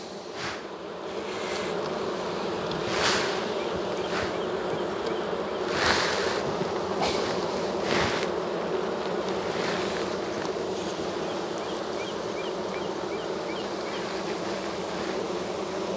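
Honeybees buzz steadily through a spring hive inspection, a dense close drone holding for the whole stretch, with a few louder swells as bees pass near and frames are worked.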